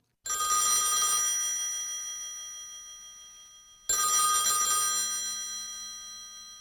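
An old telephone bell rings twice, each long ring loud and close and fading slowly, with a brief pause between them and no voices.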